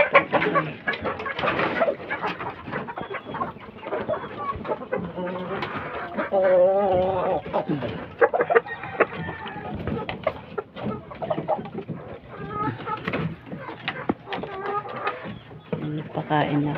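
Fighting roosters cluck and call at feeding time, close and continuous, with a person speaking over them throughout.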